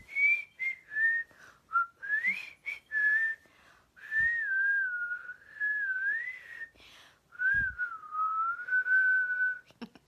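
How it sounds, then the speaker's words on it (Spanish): A person whistles a wandering melody alone, in sustained phrases broken by short pauses, clear and close. "Yo me les quedo aquí chiflando toda la noche."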